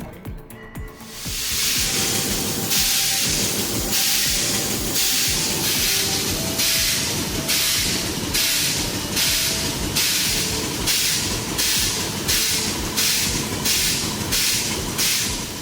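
Steam traction engines at a steam threshers reunion, running in neutral with clutches out: a loud continuous hiss of steam with rhythmic chuffing bursts repeating steadily throughout.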